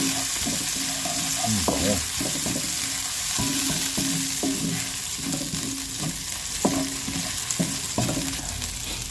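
Ginger, garlic and onion sauté in hot oil in a pan, with a steady close sizzle broken by repeated sharp scrapes and knocks of a utensil stirring in an uneven rhythm.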